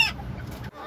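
Bantam chickens cluck at evening feeding time, a short, close burst of fowl calls that cuts off abruptly after less than a second.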